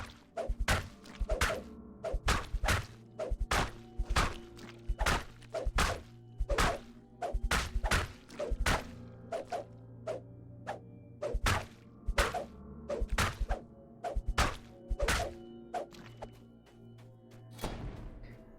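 A light mace in video game combat lands repeated heavy thunking, whacking strikes in irregular bursts, each a sharp close impact against a low steady background hum.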